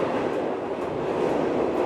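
An older passenger train in Jamaica rolls along its rails with a steady, close rumble and faint rhythmic clatter from the wheels, heard from inside a car.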